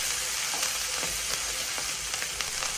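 Steak searing in very hot oil in a skillet gives a steady, loud sizzle and crackle with occasional sharper pops, continuous throughout with no talking.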